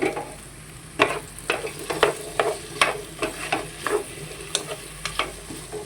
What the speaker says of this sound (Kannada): ಇವಾಗ ಕಟ್ ಮಾಡಿ ತೊಳೆದು ಇಟ್ಕೊಂಡಿರೋ ಆಲೂಗಡ್ಡೆನ ಹಾಕ್ತಾ ಇದ್ದೀನಿ.